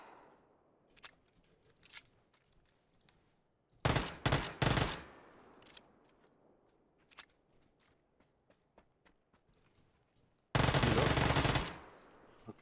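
Gunfire in PUBG comes in sharp bursts of automatic fire and scattered single shots, with two loud sustained volleys standing out against quieter distant pops and faint footsteps.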